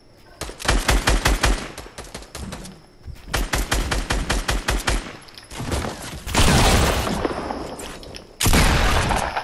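Rapid automatic gunfire from a squad shooter video game rattles in loud repeated bursts, broken by heavier booming blasts and a sustained roar near the end.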